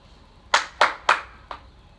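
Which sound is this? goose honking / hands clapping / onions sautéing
hands clapping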